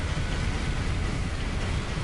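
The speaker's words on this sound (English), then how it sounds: "We had a spit of rain." Steady rain falling in the space exploration game No Man's Sky, a continuous even hiss of drops with a low rumble underneath, holding constant throughout with no voices.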